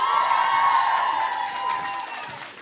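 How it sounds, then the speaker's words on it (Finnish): An audience at a dance performance showcase cheers and applauds, a dense crowd wash with whoops, loud at first and then fading over a couple of seconds. "Annetaan aplodit."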